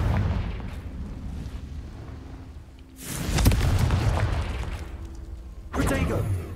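Blasting-curse explosions from spellcasting in Hogwarts Legacy, PC gameplay, with two loud broadband bursts that each roll on with a long rumbling tail over a steady low game ambience.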